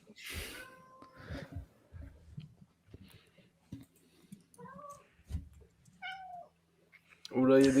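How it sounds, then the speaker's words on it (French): Several cats meow in a home during a live stream, with short, scattered calls near and far and one loud, close meow at the end, under quiet background noise and some stray vocal sounds. "il y a des chats de partout."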